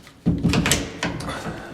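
Furnace closet door in a house being pushed shut, a couple of soft thuds and rattles close by, followed by a quieter knock as it settles.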